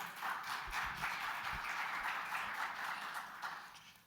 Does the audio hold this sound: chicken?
no